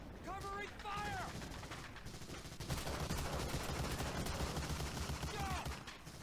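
Rapid rifle and machine-gun fire in Medal of Honor: Allied Assault during the Omaha Beach landing, dense bursts of gunfire and explosions layered with shouted commands from soldiers.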